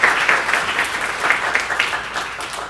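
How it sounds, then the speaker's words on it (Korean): A church congregation in a Korean service breaks into steady, full-room applause, dense and loud with no talk over it. "우리 박수로."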